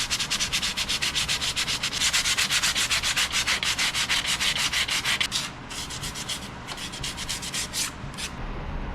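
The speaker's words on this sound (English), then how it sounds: "we have that sanded up to 240" Steady, continuous sanding against a spinning red mallee burl bowl on a lathe, a rhythmic rasping hiss that runs close and loud, with a few brief breaks near the end.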